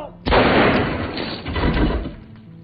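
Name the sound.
pistol gunshot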